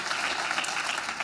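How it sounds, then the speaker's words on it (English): Audience members at a mental health legislative breakfast clap briefly, a short, even burst of many hands at moderate volume lasting about a second. "Y'all are clapping for yourselves"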